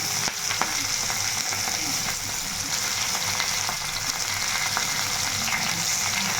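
Green chilies and sliced onions frying in hot oil, a steady dense sizzle with faint crackles that runs throughout at a moderate, even level, no voices.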